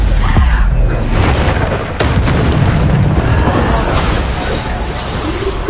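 Booming spell blasts from the Bombarda explosion spell in Hogwarts Legacy, a loud, dense rumble with repeated bursts running through the whole stretch.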